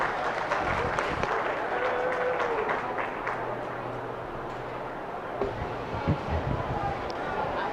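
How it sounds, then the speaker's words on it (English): Spectators at a 4-H and FFA beef showmanship and steer show give a round of applause, a moderate steady clapping with some crowd murmur and voices mixed in. "Let's give those 3 a nice round of applause"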